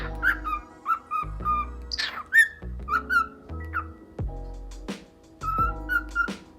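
A pet cockatiel indoors gives a series of clear, close whistles and short chirps, pitched rising and falling notes in irregular bursts separated by brief pauses.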